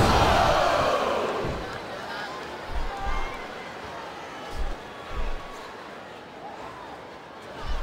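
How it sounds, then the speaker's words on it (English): A wrestling arena crowd roars during a tag-team match, with loud cheering swelling at the start and then easing. Thuds and slams from the ring punctuate the ongoing crowd noise. "I love hearing the crowd come alive"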